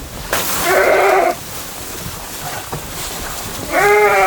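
Sheep on a livestock farm in a Chechen village bleat loudly and close by, two long wavering calls separated by a quieter stretch of ambient farmyard noise.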